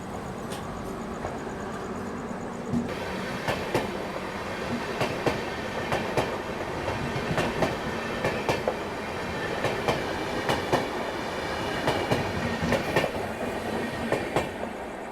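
A Duronto Express train pulls out of Vadodara Junction at night, a steady rumble of rolling wagons with rhythmic clickety-clack wheel beats over the rails, continuous and fairly close, with no talking.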